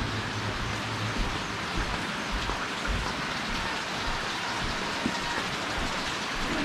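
Steady rain pours down in a dense, even hiss, with drops pattering on nearby surfaces throughout.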